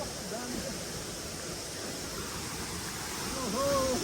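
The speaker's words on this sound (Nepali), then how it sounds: "यस्तो ठुलो रहेको छ झर्ना चाहिँ बब्बाल ठुलो झर्ना रहेको छ" Phung Phung waterfall in Kakani, Nuwakot, Nepal pours as a steady broadband roar, with faint whistling or birdlike tones drifting over it near the end.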